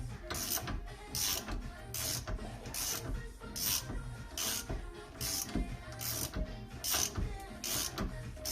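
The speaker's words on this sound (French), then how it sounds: "Voilà, là je suis arrivé en butée, donc je sais que là je viens de serrer à fond mon écrou" Wheel hub nut being tightened on the rear axle of a Peugeot 309 GTI during bearing and disc reassembly, a regular mechanical ratcheting click repeating about every half second, close and steady.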